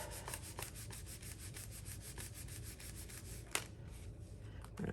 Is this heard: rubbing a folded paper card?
yes